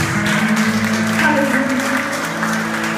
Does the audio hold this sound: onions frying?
no